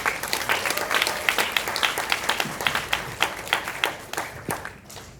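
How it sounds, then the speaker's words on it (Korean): Audience in a seminar hall applauding a speaker, dense continuous clapping from many hands that is loud at first and gradually thins and fades over about five seconds. "큰 박수 부탁드리겠습니다"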